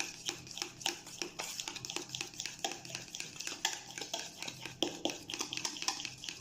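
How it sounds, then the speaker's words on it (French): A spoon or whisk stirs madeleine batter with baking powder in a bowl, giving quick, rhythmic clinks and scrapes against the bowl, close and fairly soft, no talk. "Je rajoute la levure chimique. Je continue à mélanger."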